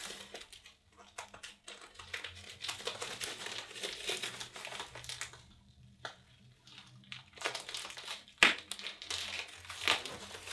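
Adhesive tape crinkling and peeling as it is pulled off an arm after a taped-up challenge, a long run of close crackling with a sharp tearing snap near the end.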